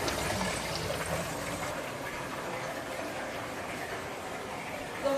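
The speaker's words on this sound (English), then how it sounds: "The water is going to drain from the sump pump to outside of the house." A sump pump drains aquarium water from a water change out of the house, giving a steady, even rushing hum of flowing water that runs continuously without breaks.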